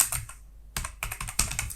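A short, close burst of quick keystrokes on a computer keyboard while a git commit message is typed, with crisp clicks coming in uneven clusters around a brief pause.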